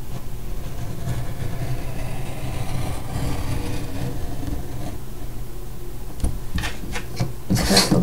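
Blade scraping and cutting through paper for a floating waterfall page, a close, continuous rubbing rasp that ends in a few sharper scratchy strokes.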